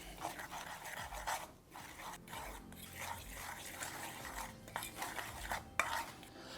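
Salt and smoked paprika stirred together in a bowl, soft repeated scraping and brushing strokes in a quiet kitchen, close and faint.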